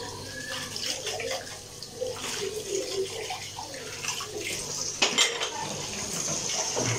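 Dishes being washed in a home kitchen sink: steady running water with cutlery and plates clinking and clattering close by, and a louder clunk partway through.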